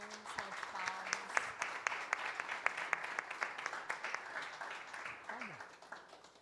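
Church congregation claps during a workshop service, scattered sharp handclaps in a loose rhythm, moderately distant, with a voice speaking over and between them.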